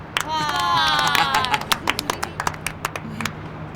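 A group of people on a bus claps in a Turkish TV comedy scene; a burst of voices gives way to scattered, uneven claps that thin out over a few seconds.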